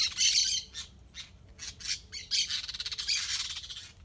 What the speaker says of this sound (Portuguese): Hoje o som foi um pouco mais diferente dos passarinhos hoje.